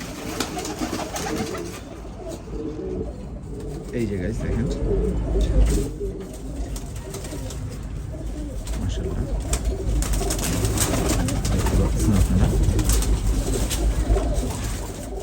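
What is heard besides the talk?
pigeon cooing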